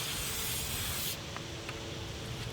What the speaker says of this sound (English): then you spray back over where any of the seams may happen to be